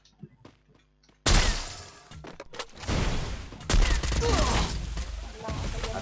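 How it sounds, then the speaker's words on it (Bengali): Rapid bursts of gunfire in the Free Fire battle royale game, loud and dense, starting abruptly after a short quiet stretch and continuing as sustained fusillade with sharp cracks throughout. "আমি একটা শট মারছি।"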